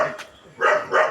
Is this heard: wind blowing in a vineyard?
no